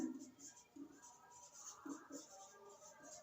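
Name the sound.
writing by hand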